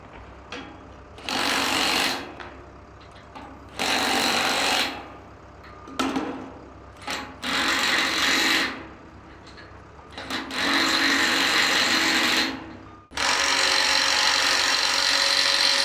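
Bolts are fastened and torqued on steel beam connections with a power tool at a construction site, in loud rattling bursts of a few seconds each, split by short pauses, ending in a long sustained run.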